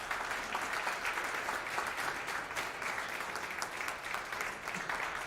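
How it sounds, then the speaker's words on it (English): An audience claps steadily at a school board of education meeting, with a dense, even patter of many hands heard from a moderate distance and no voices over it. "Let's give a big round of applause for Annalie Sharp."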